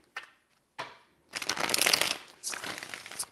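Tarot cards are shuffled close by, starting with two short riffling flicks and moving into a longer, louder crisp riffle that rattles on for a couple of seconds, with no talking.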